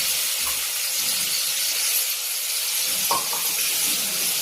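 Two chopped onions hit hot oil with half a spoon of cumin and mustard seeds, giving a steady bright sizzle with scattered small pops and crackles.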